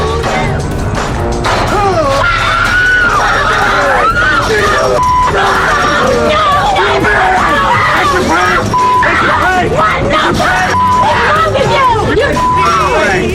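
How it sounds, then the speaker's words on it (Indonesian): People inside a small photo booth scream and shriek in fright, scared by two people in horror makeup, with repeated loud yelps, gasps and babble over a noisy crowded background. "Mereka menjerit karena takut akan dicelakai oleh dua sosok ini"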